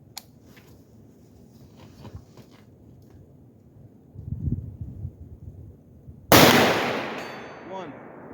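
An AR-47 rifle firing at a 200-yard target in snow: faint rustling and handling noise, then a single sharp, loud gunshot with a long decaying echo across the open ground, followed by a faint distant ring.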